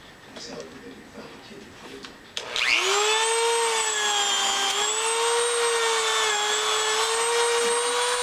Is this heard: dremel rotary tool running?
yes